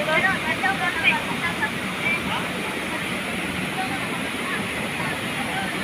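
Spring water at Anislag Spring in Valencia, Bohol rushes in a steady, broadband wash, loud and close, holding evenly throughout with faint higher flickers early on.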